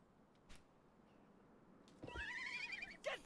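A horse in the Live A Live HD remake lets out a shrill, wavering whinny after a dull thud. The cry is brief, fairly close and clear over a quiet background.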